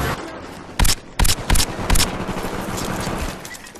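Suppressed weapons fire in a Call of Duty game: several sharp muffled shots in quick bursts over a busy background of game ambience, with no talking.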